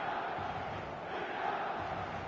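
A football stadium crowd before kickoff on match day, a continuous roaring wash of massed voices, fairly distant and even, with no single voice standing out.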